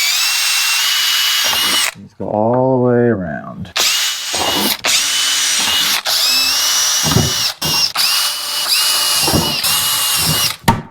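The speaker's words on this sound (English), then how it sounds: "That just gives me a little eye so I can drill the hole underneath." Several bursts of a power drill whirring into material, separated by short pauses, with a person speaking briefly between bursts.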